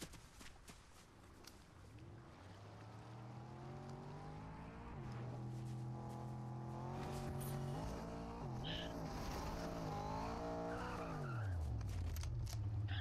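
A car in the video game Fortnite drives and skids, a faint, steady engine hum rising and falling in pitch with tire squeal, sweeping up and down as it turns.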